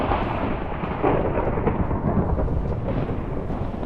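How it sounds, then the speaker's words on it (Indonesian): Thunder striking during a storm in Minecraft, a dense, steady roll of low rumbling crackle that fills the whole stretch with no pauses, loud and close. "Kemudian ditambah dengan petir yang menyambar."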